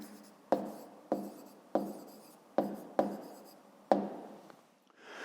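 A hand writes out an answer to a 5th-grade maths exercise, with about six distinct scratchy pen strokes at a steady pace, close and fairly quiet, each starting sharply and fading.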